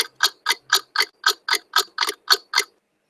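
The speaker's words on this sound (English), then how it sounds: "Or it could be the ticking sound." A clock sound effect ticks steadily, about eleven crisp, evenly spaced ticks in roughly three seconds. It is clear and close, with no talk.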